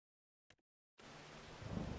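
Rain falls in a farming video game. After a brief tick and a second of silence, a steady hiss of rainfall starts up and continues at a soft, even level.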